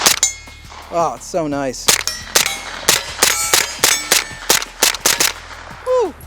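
An MP5 fitted with an AR-style trigger fires a string of sharp, close, loud shots in an uneven rhythm. A voice speaks briefly near the start, and a short squeaky tone ends the sequence.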